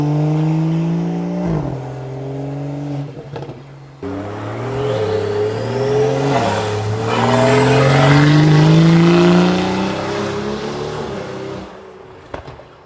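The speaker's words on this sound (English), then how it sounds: "You can just floor it like that, all wheel drive." An all-wheel-drive BMW accelerates at full throttle, its engine note climbing loud and close through repeated rising sweeps, with a brief drop between pulls and a faint tire hiss underneath.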